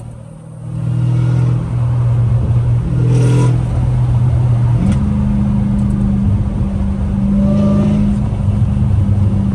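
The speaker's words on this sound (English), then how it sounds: "But this car just accelerates so much faster" A Ford GT500 accelerates hard, its engine rising from a low idle into a loud, sustained roar with shifting revs, heard close from inside the car.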